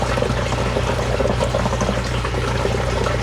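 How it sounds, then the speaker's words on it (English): Water runs into a newly acquired camper's tank, a steady close pouring and trickling wash that holds constant throughout, with no talk over it. "Looks like we're getting some water put in."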